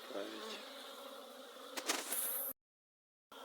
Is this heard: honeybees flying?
yes